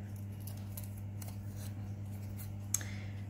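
Scissors snipping paper flowers for Polish folk-art paper crafts, a faint run of soft crisp cuts over a steady low hum, with no talking.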